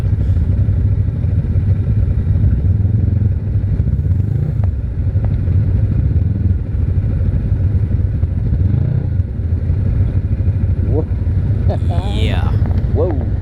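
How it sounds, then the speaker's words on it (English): A 2019 Yamaha Grizzly 700 ATV engine drones continuously while riding through mud, a loud, close low rumble, with people talking over it and brief squeaky sounds near the end. "I just love these Yamahas for that engine braking that they have."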